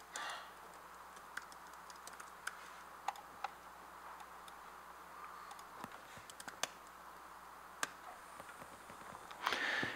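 Keyboard typing during Rust programming: soft, irregular clicks spread across the whole stretch with short pauses between bursts, quiet and close, with a slightly louder burst of keys at the very end and no talking.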